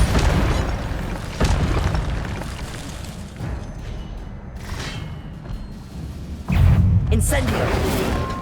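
The Incendio fire spell in Hogwarts Legacy goes off as a series of booming bursts and thuds, loud and close, with a heavier blast near the end over game background noise.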